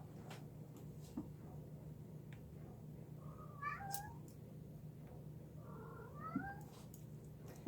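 A cat meows a few times, soft and close, over a steady low hum in a quiet room.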